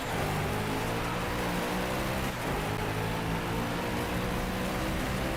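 Steady, loud rain hiss in the Driveclub racing game, a dense continuous wash of falling water that runs unbroken through the clip with a low rumble beneath it and no voices.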